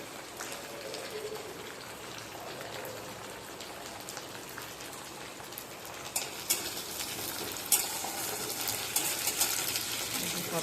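Neem leaves fry in hot oil in a pan ahead of the eggplant, giving a steady soft crackling sizzle with brighter pops near the end.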